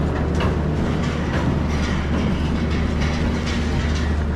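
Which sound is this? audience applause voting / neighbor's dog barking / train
train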